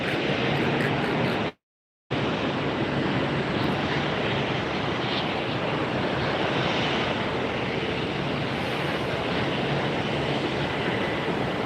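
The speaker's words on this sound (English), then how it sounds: "We are getting such a great view of this aircraft." A jet airliner at Tampa International Airport gives a steady, broad engine roar at close to moderate distance, continuous apart from a short silent dropout near the start, with no speech.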